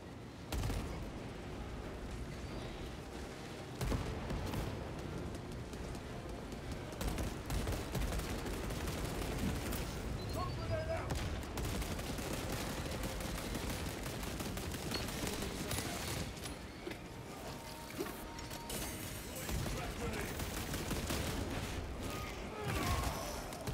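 Heavy gunfire rattles through a Warhammer 40K Space Marine 2 boss fight against a Carnifex, dense bursts of automatic fire and impacts overlapping almost without pause, loud and chaotic, with faint voices now and then underneath.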